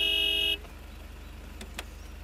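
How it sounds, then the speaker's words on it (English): A car horn gives one loud, sustained honk lasting about half a second, then stops abruptly, leaving a quiet idling engine and faint background noise. "Honk the horn."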